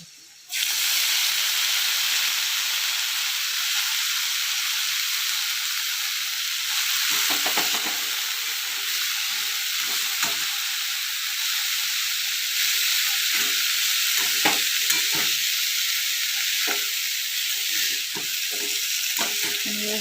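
Vegetables stir-fry in hot oil spiced with red chili powder in a pan, giving a loud steady sizzle and hiss close by, with scattered clinks and scrapes of stirring through the second half.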